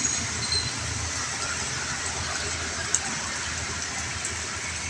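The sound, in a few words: rain falling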